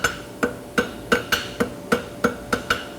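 A hammer strikes a steel horseshoe bar shoe being shaped over an anvil horn, giving about ten evenly spaced ringing metallic blows, close and clear, with no talk.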